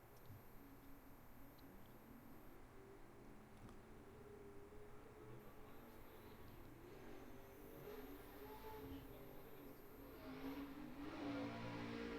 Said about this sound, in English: Man, those trucks sound so awesome.